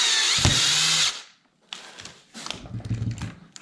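A power drill driving screws into a ski touring binding, one loud close whirring run followed by a pause, then shorter bursts with clicking and handling.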